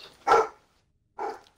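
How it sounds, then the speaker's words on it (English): A dog barks twice nearby, two sharp, loud woofs about a second apart with silence between, heard over a Halo 5 game session. "He's barking at the person who lives here."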